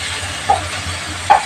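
Pieces of fish go into a pan of hot oil with a soft continuous sizzle, and two brief clinks ring out, an early one and a louder one near the end.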